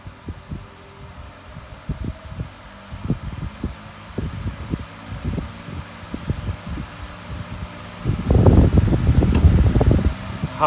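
Electric bedroom fan on medium speed, an older unit churning out a steady airy whoosh with a rhythmic thumping pulse that swells louder near the end.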